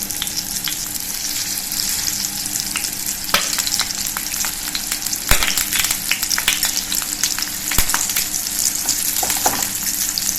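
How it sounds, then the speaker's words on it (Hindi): Bottle gourd (lauki) cooks in a pan over a low flame, giving a steady, close sizzle and frying crackle with scattered sharp pops and occasional stirring scrapes, with no voices. "तेज आंच नहीं रखी है, बिल्कुल धीमी आंच पे इसको हम गलने देंगे"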